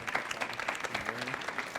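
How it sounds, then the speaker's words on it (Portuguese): Audience clapping at a corporate communications event, a short burst of scattered applause with distinct individual claps, moderately near, with some voices murmuring underneath. "Pessoal, palmas para o Rodrigo."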